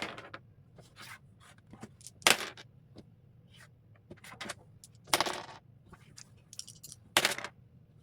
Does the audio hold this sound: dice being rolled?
yes